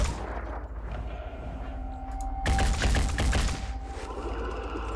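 Gunfire in the Phoenix Point video game erupts as a loud, rapid burst of shots lasting about a second, set against a quieter humming backdrop before and after.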